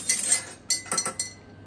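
Ice cubes drop into a glass of punch with several bright clinks, an initial rattle followed by three or four distinct knocks against the glass, close and fairly loud.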